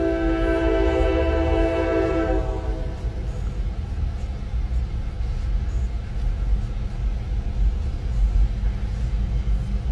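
A Norfolk Southern freight train horn blares for a few seconds, then the heavy train rolls slowly and steadily past, loud and continuous.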